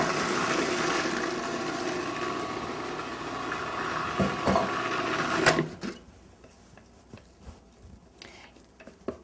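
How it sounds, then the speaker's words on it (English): A blender whirring through red bean dip ingredients for several seconds, a steady loud motor buzz that cuts off abruptly, followed by quieter clicks and handling noises. "I'm going to blend that together"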